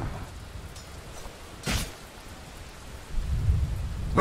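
Rolling Thunder ability effect in a video game: a thunderstorm sound of steady rain hiss broken by one sharp crack of thunder, then a low rumble building near the end, with no voices.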